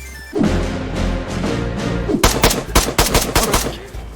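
Rapid bursts of gunfire crack in a video game firefight, with a burst of automatic fire, a pause, then a denser run of loud, close shots.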